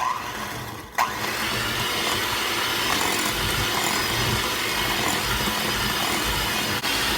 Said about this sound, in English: we're going to cream these until they're fluffy on medium speed